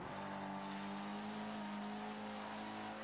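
Steady, sustained hum of a Ferrari engine at racing speed in Forza Motorsport 5, holding a constant pitch without shifts, fairly quiet and unbroken.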